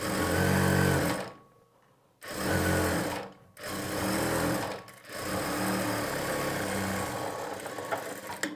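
Electric sewing machine stitching blouse fabric, running in loud steady whirring bursts separated by brief pauses, with no voices over it.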